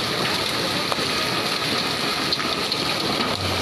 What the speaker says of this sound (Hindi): ये देखिए जरा इस साइज के ओले पड़ रहे हैं लाहौर में